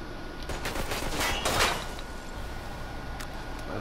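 Gunfire from shootouts in Mafia II, a cluster of sharp shots bursting mid-clip over continuous background game noise, with a lone crack near the end.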